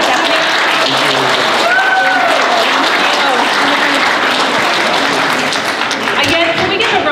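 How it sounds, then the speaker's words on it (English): An audience claps for two judges at a school art show, with steady close applause and cheering running throughout while voices talk over it. "can we get a round of applause to these two amazing judges?"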